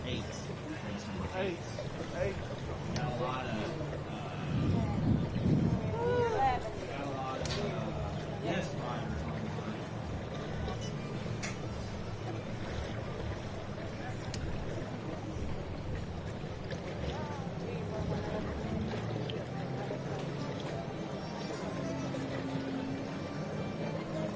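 Personal watercraft, including a Yamaha SXR 800, race at the Mudbug Nationals in Morgan City, Louisiana. Their steady, distant engine roar and water rush run continuously beneath a commentator's voice.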